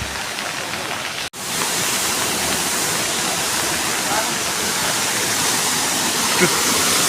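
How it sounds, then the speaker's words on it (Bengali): Wakaba Falls in Meghalaya roars with a constant, loud, full-bodied rush of heavy water pouring down, broken only by a momentary dropout early on. "ঝর্ণাটা প্রচুর পানি নিচে নামতেছে, পানির গর্জনটা শুনে উফ, জোস"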